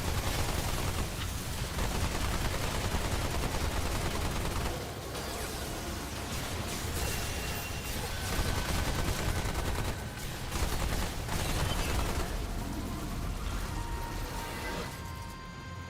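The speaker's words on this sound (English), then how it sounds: "My turret's just firing at nothing." Engineer turrets fire in the video game Remnant II with dense, continuous rapid gunfire and crashing impacts, forming a loud, unbroken barrage of shots.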